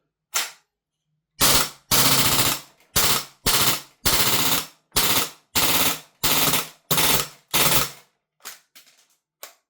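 Lambda Defence GHM9 Gen2 gas blowback airsoft rifle fed from a KWA PMX magazine, firing sharp bursts of rapid shots, about ten loud clustered strings with short gaps, then a few weaker isolated pops as the mag runs empty.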